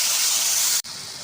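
Water splashes into a pan of spices, including dry coriander, chicken powder and cumin, while Chinese biryani cooks, a loud steady sizzling hiss that cuts off sharply and then resumes slightly softer.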